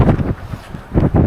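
Strong wind buffets the microphone outdoors in cold Antarctica, coming in loud gusts that rumble low and then briefly ease.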